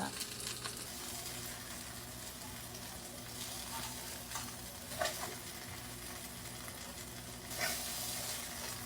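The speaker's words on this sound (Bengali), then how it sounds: "আমার বেগুন উল্টানো হয়ে গিয়েছে তারপরে আরেক ফাঁস হয়ে গেলে নামিয়ে ফেলবো বেগুনগুলোকে" Eggplant slices sizzle steadily in a frying pan, a close, constant crackle broken by a few brief clinks and stirring sounds.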